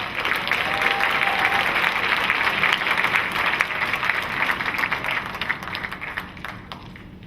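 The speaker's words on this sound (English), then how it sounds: "Let's please give our certificated retirements another round of applause." Sustained audience applause for retiring staff at a school district awards ceremony fills an indoor hall, a dense wash of clapping that gradually thins and fades toward the end.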